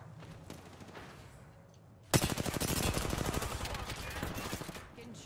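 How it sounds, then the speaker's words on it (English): Rapid automatic gunfire from a firefight in Apex Legends bursts in suddenly and rattles on as a loud, fast stream of shots for about three seconds, then fades, with voices chatting faintly underneath. "Getting shot at."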